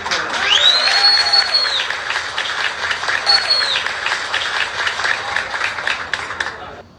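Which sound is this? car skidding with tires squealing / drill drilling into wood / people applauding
people applauding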